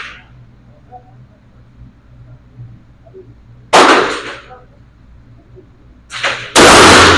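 A Benelli M4 Tactical 12 gauge shotgun fires loud, close blasts at an outdoor range, one around the midpoint and two more in quick succession near the end, with quiet background between shots.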